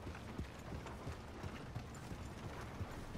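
Horse hooves clip-clopping in Red Dead Redemption 2, a steady soft run of hoof beats at moderate distance under low background ambience, with no talk.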